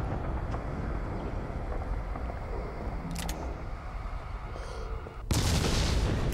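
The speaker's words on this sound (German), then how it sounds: "voll am Explodieren hier" Explosions rumble in the horror video game Call of Cthulhu: Dark Corners of the Earth, a dense, continuous low roar with a sharp burst of noise in the middle and a louder blast near the end.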